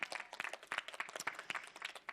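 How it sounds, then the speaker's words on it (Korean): A congregation at a church service breaks into applause, a quiet, distant patter of claps with uneven rhythm that swells and dips throughout. "우리는 다 같이 큰 박수에 감사를 올리겠습니다"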